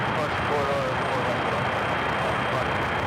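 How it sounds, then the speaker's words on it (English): A Condor Airbus A330neo jet departs JFK airport with a sustained, broad engine roar heard from nearby, and a voice talks over the noise. "That was the Condor A330 Neo in the green stripe livery heading back to Dusseldorf there in Deutschland."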